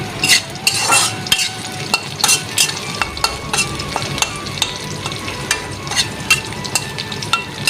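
Bay leaf, cumin, dried chilli and onion fry in a pan with a loud, close sizzle, broken by repeated sharp scrapes and clinks of a utensil stirring against the metal.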